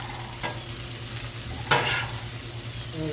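Potatoes frying in grease on a Blackstone griddle, a continuous broad sizzle with a couple of louder scraping stirs, close and steady with no talk.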